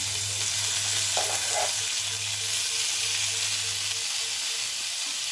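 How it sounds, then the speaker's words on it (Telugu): Tomato pieces frying with onions in a pan, a steady hissing sizzle with a couple of brief utensil touches and a low background hum, close and even throughout, no talking. "టమాటా ముక్కలు వేసి వేయించుకుందాం."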